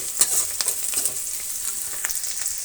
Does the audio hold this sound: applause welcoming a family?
no